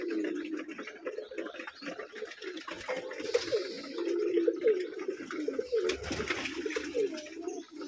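Pigeons at a pigeon farm coo continuously, with several birds overlapping in low, throaty calls at close range throughout.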